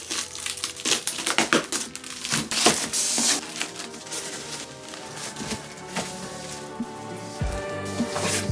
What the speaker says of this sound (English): Oh, you can hear it decompressing, hear it? Oh my God, it's unrolling.